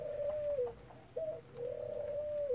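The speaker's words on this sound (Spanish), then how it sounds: "Y esa tórtola turca" A Eurasian collared dove in an aviary coos close by, three drawn-out, tonal calls with short gaps, clear over faint background noise.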